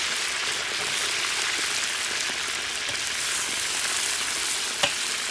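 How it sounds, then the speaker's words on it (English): Steady, close sizzling of Central Asian pilaf frying in a hot pan, a dense crackling hiss with scattered pops, continuous throughout and no voices. "it's just frying."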